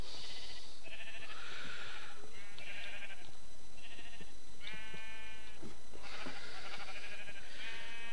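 A run of Minecraft sheep bleats, about eight separate wavering calls from an automatic sheep farm, some overlapping, steady and fairly close with no voices.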